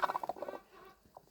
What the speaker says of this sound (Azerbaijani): Toyuq.